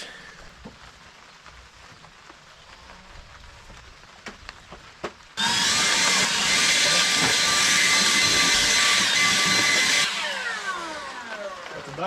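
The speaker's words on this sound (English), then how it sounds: "I brought my blower. I'm going to blow the dust out of this" Air blower blasting dust out of the engine bay of a 1970 Chevy C30 farm truck outdoors in light rain, a loud steady hiss starting abruptly, holding for about five seconds, then cutting off.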